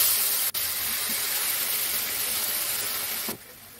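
Poppy seed, mustard and green chilli paste frying in a wok, giving a loud, steady hiss and sizzle close by, with a sharp click near the start and an abrupt drop near the end, no speech.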